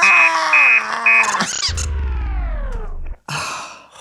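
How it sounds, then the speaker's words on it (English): A robot alarm clock sounds loudly, first with repeated electronic beeps, then a burst of harsh tones and a long descending whine over a low buzz, a brief silence, and another shrill blast. "Would you like to hear my alarm? Yes, and make it loud."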